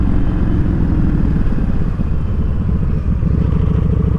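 A Yamaha Stryker cruiser motorcycle rumbles steadily while being ridden, its engine a loud, continuous low drone with a fast pulsing beat and no pauses.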